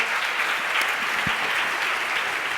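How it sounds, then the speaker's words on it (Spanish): Steady, dense applause from an audience at an investment strategy conference honours the speakers, even and sustained throughout without letting up. "Pido un aplauso para ellos por la visión que nos han dado del mercado."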